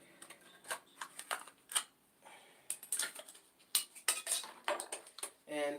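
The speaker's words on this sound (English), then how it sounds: "And this is my measuring spoon, so all I have to do is just pull it back to the half mark." Adjustable metal measuring spoon being slid back to the half mark while making funnel cake batter, giving a string of light, quick metallic clicks and ticks, close and fairly quiet, with soft kitchen clatter between them.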